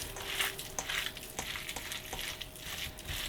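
Goan beef cutlet mixture being mixed with bread, heard as quiet squelching and soft scraping strokes at a steady pace, with occasional light knocks against the bowl and a faint background hum.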